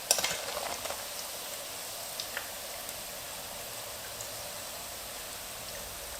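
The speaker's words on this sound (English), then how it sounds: "you can fry a little bit longer until deep dark" Pan rolls deep frying in hot oil give a steady, even sizzle with faint crackles, loudest at the very start and then settling into a constant hiss with no talking.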